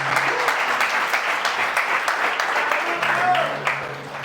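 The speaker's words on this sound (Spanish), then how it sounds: "Un aplauso." Audience applause at a Spanish-language business talk, steady dense clapping that carries on throughout and thins slightly toward the end, with a voice briefly audible under it.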